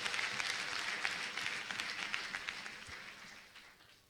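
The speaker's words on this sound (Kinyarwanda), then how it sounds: "Twakomera Imana amashyi muri iri teraniro." Sustained applause from a church congregation fills the hall, a dense crackle of many hands that starts strong and gradually thins and fades toward the end, with no talking over it.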